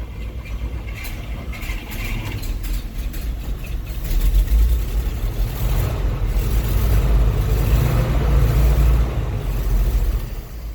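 An old GMC truck with a V6 that has not run in eight years cranks and catches about four seconds in. It then revs into a louder, deep, rough engine roar that holds and eases slightly at the end.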